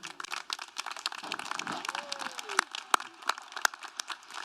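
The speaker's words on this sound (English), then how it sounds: "Please give a round of applause for our Grand Marshal, Omer Binley." Audience applause at a university business school commencement ceremony, a crowd clapping in a steady patter of sharp claps that carries throughout, with a brief voice heard partway through.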